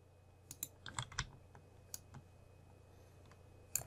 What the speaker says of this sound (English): So I'm going to click, hold shift, and then click again.